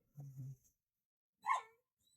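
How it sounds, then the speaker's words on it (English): An unhappy pet dog gives a short low whimpering bark, then a higher yelp a second later, both faint and distant in an otherwise quiet room, no talk. "Your dog is not happy."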